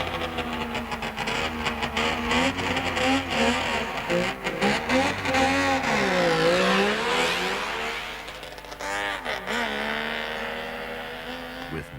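Saab Formula Junior race cars with 90-horsepower engines roar past at speed, a loud, continuous engine note rising and falling in pitch as the cars sweep by, then fading slightly toward the end.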